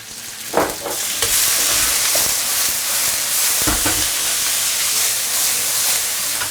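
Chinese chives stir-frying in a hot pan with pressed tofu, a loud continuous sizzle with a few sharp scrapes and clatters as the pan is stirred at the start.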